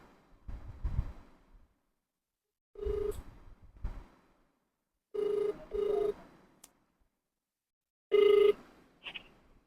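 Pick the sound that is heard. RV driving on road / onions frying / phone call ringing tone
phone call ringing tone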